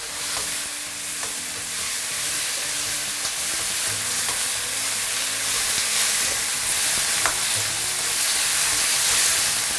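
Marinated chicken stir-frying in a wok over maximum heat on a home stove, a steady loud sizzle with scraping stirs and faint clinks throughout, no voices.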